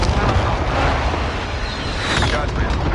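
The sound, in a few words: airstrike explosions in the video game Call of Duty Warzone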